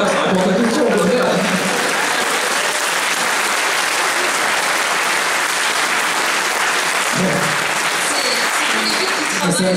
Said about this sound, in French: tout le monde a applaudi d'un coup